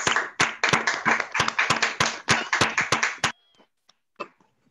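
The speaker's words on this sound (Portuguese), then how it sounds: "Palmas! Palmas!" A small group claps in quick, sharp, fairly close bursts for about three seconds at a conference poster session, then stops abruptly, leaving near silence with a couple of faint stray sounds.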